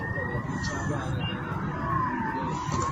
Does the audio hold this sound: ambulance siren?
yes